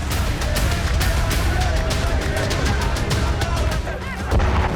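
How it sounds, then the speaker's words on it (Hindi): Loud, dense series of blasts and booms from Israeli aircraft bombing in Gaza, sharp impacts repeating rapidly over a constant rumbling roar, no speech heard. "इजरायली विमानों से बमबारी की वजह से गाजा में कई बड़े धमाके हुए"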